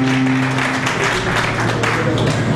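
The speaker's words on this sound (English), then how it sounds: "Can we give a clap offering unto the Lord?" A wedding congregation gives a clap offering, a dense, continuous burst of applause from many hands close by. It runs over a low background hum and faint murmuring.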